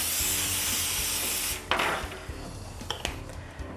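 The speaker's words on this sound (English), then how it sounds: "we're going to spray the bottom with cooking spray." A sustained aerosol spray hisses steadily for about a second and a half, then stops, followed by light clinks and rattles of a pan.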